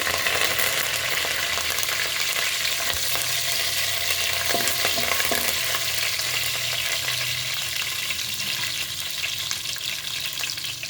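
Curry leaves crackle and sizzle in hot oil for a vegetable biryani with coconut milk, a dense continuous frying hiss with a few faint stirring knocks, no voices.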